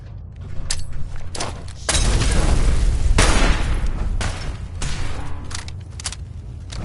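Gunfire and explosions during a firefight in the video game Fallout 4: repeated booming blasts and crackling bursts over a dense, rumbling battle din, loud and continuous.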